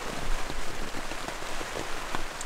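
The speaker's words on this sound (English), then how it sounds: "It's been raining all night." Steady rain patters on surfaces at a campsite on Isle Royale in the early morning, a dense, even hiss with scattered close drops, no voices.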